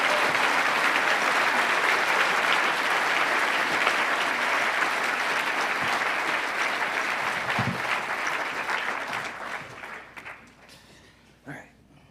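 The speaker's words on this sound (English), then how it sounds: "I know he and his colleagues deserve a special round of applause." A graduation ceremony audience at a school breaks into sustained, loud applause that holds steady for about ten seconds before thinning out and trailing off.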